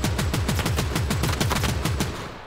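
Rapid LMG-style automatic fire in the mobile shooter Battle Prime: a fast, even stream of close, loud shots that keeps up for about two and a half seconds before tapering off.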